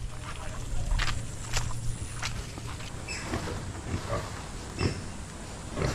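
Native pig being caught and taken, scattered short grunts and squeaks over shuffling and rustling, moderately close amid background noise.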